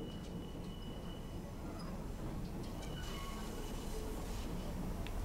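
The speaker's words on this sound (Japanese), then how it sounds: "沼津の名物ラブライブの電車" A Love Live themed train runs near Numazu, a steady rumbling roll of wheels and carriage noise with faint high squeals, heard from inside or beside the line without talk.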